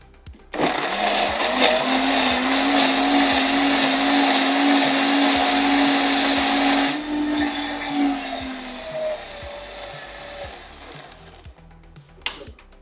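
Close electric blender grinding a spinach mixture with oil, peanuts, pepper and salt. A steady high whine runs for about six seconds, then the motor slows and winds down, followed by a few light knocks.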